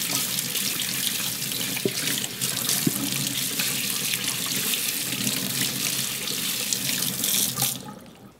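Tap water runs into a sink while vegetables are washed for a spicy Korean beef and vegetable soup, a loud steady splashing that continues without pause and cuts off just before the end.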